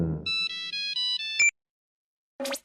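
A mobile phone ringtone plays a short, bright electronic melody of repeated synthetic tones. It cuts off abruptly and is followed by a brief beep after a pause of silence.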